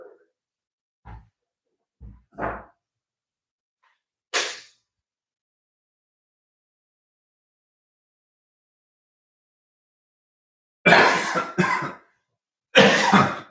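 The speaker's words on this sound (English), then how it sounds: "Coughing up phlegm." Several short, scattered coughs with throat clearing, then a cluster of harsher, wetter coughs near the end, separated by silence.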